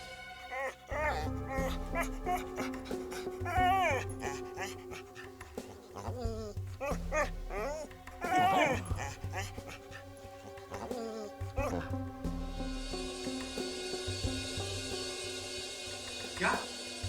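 An injured dog that has been shot whimpers and whines in repeated high, wavering cries amid a TV crime-drama scene, with speech, background music and a rising hiss near the end.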